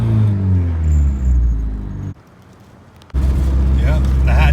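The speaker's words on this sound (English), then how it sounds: "Yep, the hatch is finally driving around town under its own power." A turbocharged Honda Civic hatchback engine rumbles while driving around town, with a loud low drone that cuts out abruptly for about a second and then returns just as strongly.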